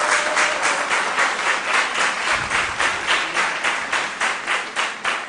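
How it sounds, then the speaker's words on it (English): An audience claps for a school quiz team of Basic 9 pupils, giving a loud, steady, rhythmic round of applause that pulses in an even beat for several seconds with no talking. "Let's give them a round of applause."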